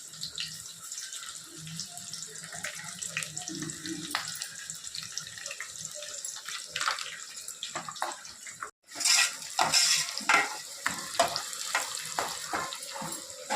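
Onions, green chillies and curry leaves frying in hot oil for country chicken curry, a soft crackling sizzle with clinks and scrapes, brief gap, then louder bursts of spluttering.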